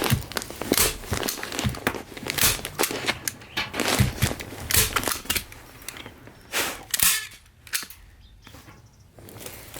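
Staple gun fastening insulation backing in a garage, a rapid series of sharp snapping clacks scattered irregularly through the whole stretch, close and fairly loud, with no talking.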